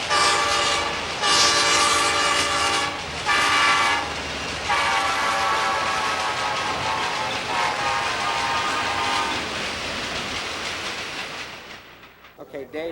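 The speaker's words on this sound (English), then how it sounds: "They blow their horn to warn you that they're coming." A train horn blasts in several long, loud sustained blows over the steady rumble and clatter of a passing train, which fades toward the end.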